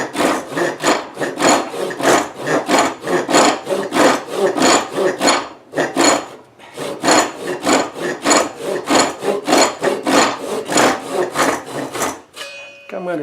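Hand saw rasping through wood while cutting dovetail sockets, a long run of quick, steady back-and-forth strokes with a brief pause midway, close and loud, ending with a short clatter.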